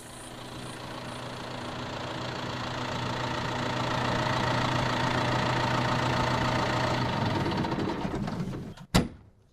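A high-tech tractor engine runs with a steady mid-to-low rumble that swells slightly, then cuts off near the end with a brief clunk.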